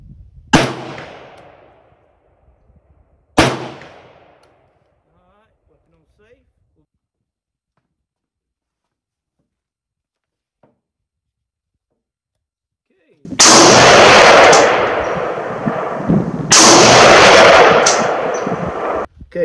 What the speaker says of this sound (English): I'm shooting no rear support, front support